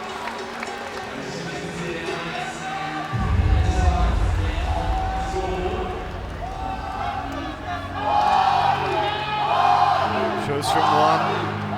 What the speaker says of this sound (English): The crowd trying to cheer on Robert Howard.